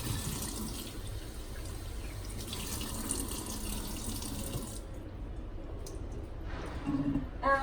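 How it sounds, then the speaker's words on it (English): A kitchen tap runs steadily into a sink while tofu is washed under it, giving a continuous close splashing rush with small watery shifts that eases off near the end. "you have to wash it because you cannot make sure that the tofu is clean"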